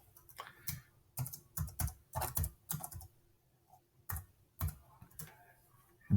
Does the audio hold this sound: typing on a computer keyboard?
yes